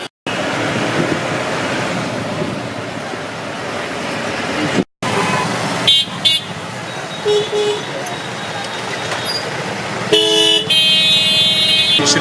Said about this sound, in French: je sais pas si vous m'entendez bien avec les klaxons